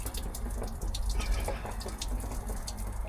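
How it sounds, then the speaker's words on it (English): Water blown hard through a pipe gurgles and splashes steadily, a continuous bubbling rush close by with no voices. "blow hard, it should blow the water through and out of that other pipe"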